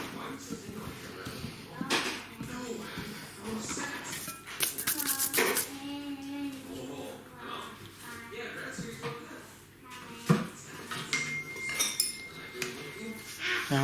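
Tandoori chicken being mixed by hand with cashew and methi in a bowl, giving repeated clinks and wet knocks against the dish, with a person talking over the mixing.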